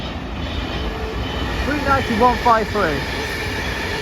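A Transport for Wales Class 197 passenger train passing through Greater Manchester, its wheels rumbling and clicking over the rails with a few squeals at moderate distance, while someone talks over it.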